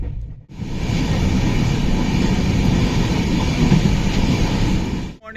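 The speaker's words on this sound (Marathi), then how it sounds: "तर आता ठाण्यावरून आमची ट्रेन निघाली" A passenger train pulls away from Thane on an overnight run toward Konkan, its steady loud rumble and rolling hum filling the carriage from start to finish, fading briefly at the edges.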